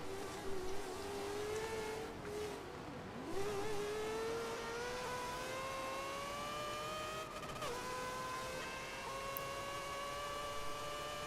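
Race car engines in a sim racing endurance event at Indianapolis, including a Mercedes, droning steadily with rising pitch as cars run close together in the slipstream and overtake, one passing sweep near the middle.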